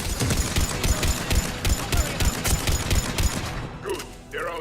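Gunfire in a Mass Effect 3 firefight against turrets, rapid repeated shots in a steady rhythm, loud and close, with a brief electronic tone near the end.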